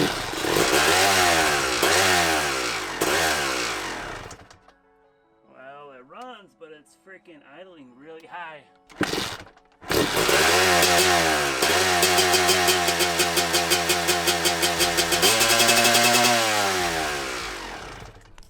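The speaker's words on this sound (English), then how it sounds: "Yeah, she's running, but idling a little high." Suzuki RM250 two-stroke dirt bike engine being brought to life on a rebuild, revving loudly in bursts, dropping out briefly while a voice talks, then catching again and running steadily at a somewhat high idle with sharp harmonic buzz.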